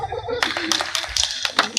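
Audience members at a Hindi comedy show clap in short bursts of sharp, close claps, scattered and uneven rather than a full round of applause, with a voice speaking at the start.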